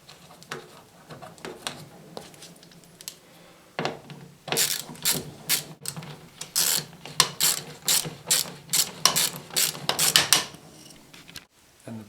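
A ratchet works a bolt out of a fridge door hinge. After faint clicks at first, it gives a fast run of crisp, close ratcheting clicks in uneven bursts, with no talk.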